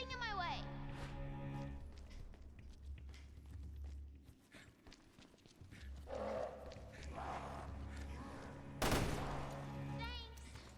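Bursts of gunfire in Resident Evil Revelations 2, sharp repeated shots over a droning game soundtrack, with one loud blast near the end and occasional voices.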